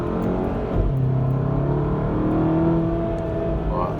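A VW GTI MK7 running a Cobb Accessport stage 1 tune revs while driving, engine tone rising steadily over road rumble and interior hum.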